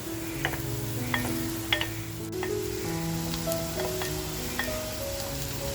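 Sliced onion frying in oil until lightly golden for a dhaba-style chicken masala, a steady soft sizzle with occasional light clinks of a spoon against the pan, no voices.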